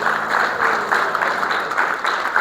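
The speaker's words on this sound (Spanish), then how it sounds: "Denle un aplauso al Señor por este hermoso jardín que tenemos aquí esta mañana" A church congregation applauding at a Sunday service, a dense patter of many hands clapping together, moderately loud and sustained for a couple of seconds without speech.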